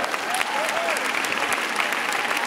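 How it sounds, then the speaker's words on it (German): A premiere audience bursts into dense, steady applause close by, a continuous wash of clapping with a few faint voices underneath. "Ja, Applaus für euch."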